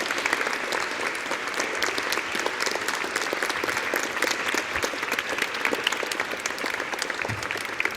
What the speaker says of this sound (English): Keep them clapping.